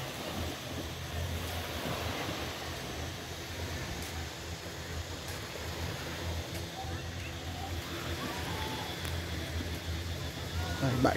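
Waves wash onto the beach at Dam Trau on Con Dao, a steady unbroken surf hiss mixed with wind noise on the microphone.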